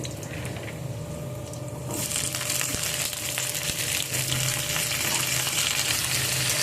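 Chopped flat beans dropped into hot oil with nigella seeds and green chillies, starting a loud, steady close sizzle that continues with occasional stirring scrapes.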